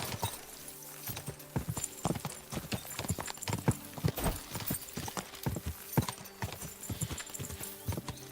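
Hooves clip-clop in a steady trotting rhythm from a horse in the video game Kingdom Come: Deliverance II, close and distinct, continuing the whole time with no talking.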